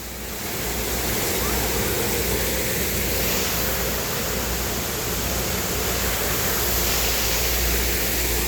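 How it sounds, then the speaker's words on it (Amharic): Water pours down steadily like a waterfall, a dense, continuous roar that fills the whole stretch at an even loudness with no pauses. "ውሃው እንዴት አባቱ ነው የሚወርደው"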